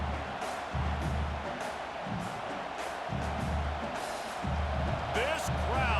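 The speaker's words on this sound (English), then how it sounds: "This crowd, full throat, spreading the eardrums and letting them know it's going to be a long day." A stadium crowd roars in the video game EA College Football 26 during a Washington Huskies vs. Oregon Ducks matchup, a sustained distant cheer running beneath a commentator's steady talk.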